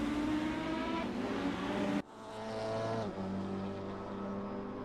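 Race cars roar past one after another at the Nogaro circuit, loud engines and exhaust droning and shifting pitch as they pass close by.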